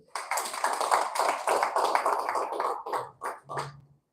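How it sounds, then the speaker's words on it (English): An audience in Lagos claps together, steady dense applause that carries for a few seconds before breaking into a few final scattered claps and stopping. "Let's clap for them."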